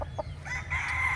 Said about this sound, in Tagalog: This is LDT Boston Millionaire